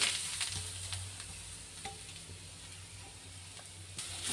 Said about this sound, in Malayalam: തേങ്ങ നമുക്ക് നന്നായിട്ട് മൂപ്പിച്ചെടുക്കാം